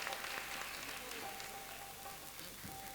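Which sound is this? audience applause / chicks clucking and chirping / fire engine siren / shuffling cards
audience applause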